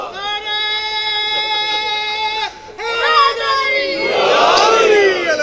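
A majlis audience chants a slogan: a sustained, tonal lead voice gives way, after a brief dip, to a swelling roar of many voices chanting together, loud and close.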